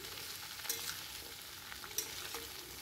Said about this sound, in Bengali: তাই সমস্ত সবজি আমি এখানে দিয়ে দিলাম একে একে করে। এবার ভালোভাবে নেড়ে